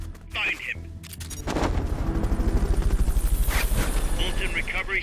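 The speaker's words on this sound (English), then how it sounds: "Fulton recovery subject confirmed onboard helicopter." Helicopter rotor from the video game Metal Gear Solid Peace Walker during a Fulton recovery, a loud rhythmic chopping thump that swells in after a few game effects and pulses steadily, close and prominent.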